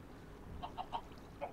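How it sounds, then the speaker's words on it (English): Chickens in modded Minecraft give four short, soft clucks, three in quick succession and one after a pause, faint over a low steady background hum. "we're muting the chickens"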